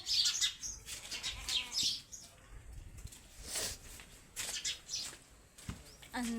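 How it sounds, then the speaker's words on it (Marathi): House sparrows chirp around a home in short, scattered bursts of high twittering, fairly near and moderately loud, with bits of household noise between the calls and no speech. "आमच्या चिवताई आता कमी चिवचिव करून राहिल्या"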